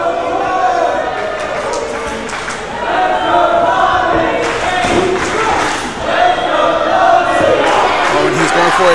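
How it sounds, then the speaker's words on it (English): A wrestling crowd cheers and roars for the Buzzard at a live Reality of Wrestling event, a loud sustained din with surging shouts and thuds of ring action, while commentators talk over it. "we hear the crowd here getting right behind the Buzzard"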